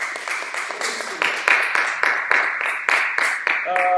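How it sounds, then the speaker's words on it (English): Classroom applause in a conducting lesson: a group clapping steadily and fairly close, with dense irregular claps throughout, and a brief piano-like tone entering near the end. "Applause, applause."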